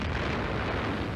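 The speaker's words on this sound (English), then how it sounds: "In the smoke of giant explosions, the Tirpitz capsizes and sinks." Bombing of the German battleship Tirpitz, a dense, loud, rumbling explosion roar that fills the whole moment with sustained low thunder and no talk.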